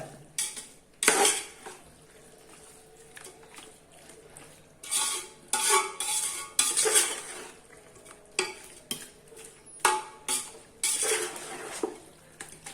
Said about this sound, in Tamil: இப்போ சிக்கன் கூட நல்லா மசாலா எல்லாமே சேரணும், அதனால கிண்டி விட்டுட்டு இருக்காங்க.